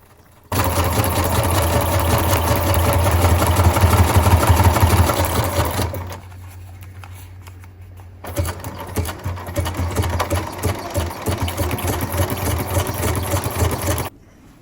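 A sewing machine stitches through a small stack of paper scraps, a loud close mechanical whirr that runs for several seconds, pauses briefly, then resumes with a choppier rhythm.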